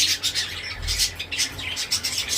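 Pet birds, Java sparrows and budgerigars, call repeatedly in short, sharp squawks and chirps that come in quick bursts, close and fairly loud, with no speech.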